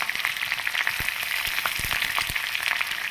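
Chopped onions with curry leaves sizzling in oil in a pan for avalakki (flattened rice), a steady crackling fry with occasional sharper pops and stirring clicks throughout.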